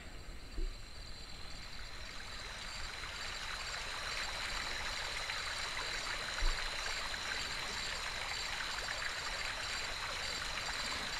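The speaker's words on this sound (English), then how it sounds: "Doesn't it make you think of a nice little babbling brook?" A babbling brook runs in a steady rushing trickle, a constant water wash with a couple of faint knocks and no speech.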